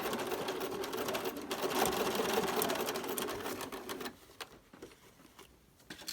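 A sewing machine runs steadily and close while stitching the pleated seams of a homemade cloth face mask, a continuous whirring hum that stops abruptly partway through, leaving a few faint handling sounds.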